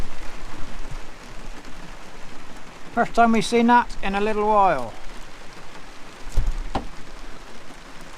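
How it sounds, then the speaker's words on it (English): Heavy rain pours down steadily outside a farm building window, a dense hiss and patter throughout, with a voice briefly speaking over it and a couple of nearby knocks. "It's properly raining."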